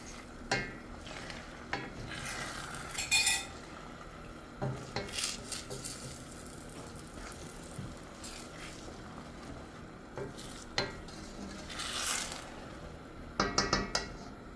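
An egg fries in a pan and is stirred with a utensil, giving soft sizzling beneath a series of close scrapes and metallic clinks against the pan that come in irregular clusters, with a quick flurry near the end.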